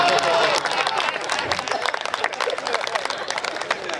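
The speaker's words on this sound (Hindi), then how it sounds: "आपकी तालियां बता रही है" Audience applause at a comedy show, a dense burst of clapping from a crowd of mostly women, steady and fairly loud throughout with some crowd murmur mixed in.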